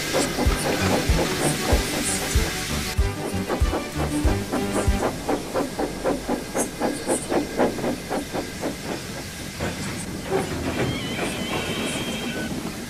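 Steam locomotive from a 1985 UK children's railway story quietly shunting in the yard, steady rhythmic chuffs with hissing steam and rail clatter, running alone over music.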